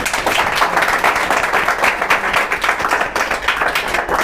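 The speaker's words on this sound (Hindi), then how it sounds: "तो चलिए हम लोग स्वागत करते हैं प्रेम का जोरदार तालियों के साथ" Applause from a classroom audience welcoming a student who passed the CISF exam, dense and steady clapping from many hands throughout, fairly close and loud with no talk over it.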